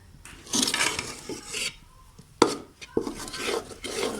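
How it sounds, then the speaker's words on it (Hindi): Egg and gram flour mixture being stirred and fried in a pan, with scraping and clinking of a utensil against the pan in uneven bursts and two sharper knocks midway, over a soft background sizzle. "इस तरह इसे भूनते जाएं थोड़ी देर और"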